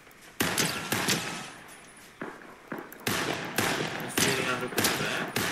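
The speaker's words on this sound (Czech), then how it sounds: "střílí po tobě" Repeated bursts of rapid gunfire in the video game Fortnite, some close and loud, others quieter, in irregular volleys over several seconds.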